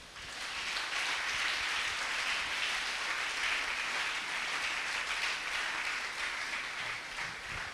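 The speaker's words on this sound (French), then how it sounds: "on acclame le Seigneur" A church congregation applauds and cheers in praise of the Lord, a dense, continuous wash of clapping that holds steady and loud throughout without any speech.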